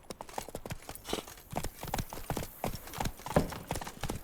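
Horse hooves clip-clop at a steady walking rhythm in The Witcher 3, close and distinct beats continuing alone with a faint ambient bed.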